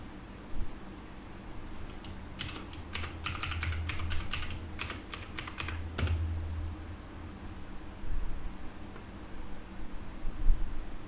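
Password typed on a computer keyboard to connect to a PC, a quick run of crisp, close key clicks lasting about four seconds over a steady fan-like hiss.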